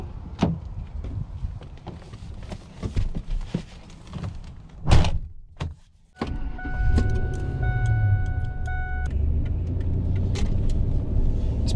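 A truck gets ready for a road trip. Close clunks and rustling are followed by a door shutting, then the engine starts and settles into a steady, loud rumble with a faint whirring tone over it.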